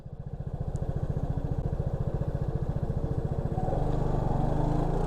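Vespa GTS 310 scooter pulling away on a hill start, its single-cylinder engine thumping rhythmically at idle and then rising in revs and loudness as it moves off, heard up close with no talking.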